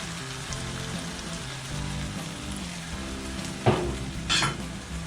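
Squid adobo sizzles steadily in a hot oiled pan with soy sauce, a constant frying hiss with brief louder crackles and stir bursts near the end.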